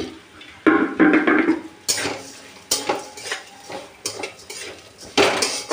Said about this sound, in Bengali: একটু বাদামটা ভেজে এর মধ্যে চিড়েটা আমি দিয়ে দেবো।